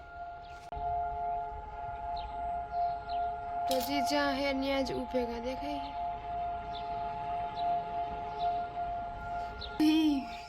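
A civil defense siren in Israel holds a steady wailing tone in the distance throughout, while people talk nearby over it.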